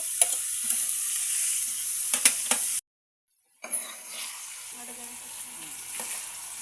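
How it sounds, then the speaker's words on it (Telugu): Flat beans and broad bean pods fry in oil in a pan with a steady close sizzle, a few metal clinks from stirring, a brief silent gap, then frying resumes. "మంచిగా నూనెలో ఫ్రై కావాలి"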